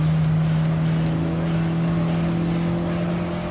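A Lancia Delta racing on dirt in Gran Turismo Sport, a steady loud engine drone holding a constant pitch, with a continuous rough gravel rumble beneath.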